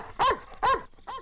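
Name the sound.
dog barking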